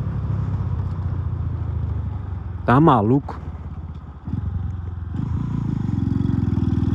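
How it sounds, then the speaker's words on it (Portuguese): A carbureted Honda Titan 150 motorcycle with an SFX F-22 exhaust idles loud and close with a deep, uneven rumble. A brief higher warbling sound cuts in partway through, and someone speaks over the engine. "Essa moto tá incrível, velho."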